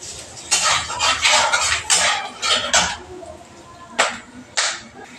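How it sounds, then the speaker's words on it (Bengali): Peanuts are dry-fried with a little salt in a pan, the nuts rattling and scraping against the metal in several sharp bursts, separated by quieter pauses. "বাদামটা ভেজে নেবো আমি,"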